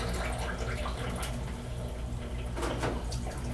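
Water rinses through the tubs of a roller-style film processor as a continuous close rush and gurgle, with a low machine hum beneath it.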